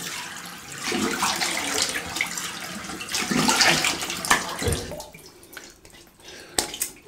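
A Claymore Evolution single edge safety razor is rinsed under a running tap: a steady, close splashing stream of water that thins out toward the end into scattered drips and a few sharp knocks.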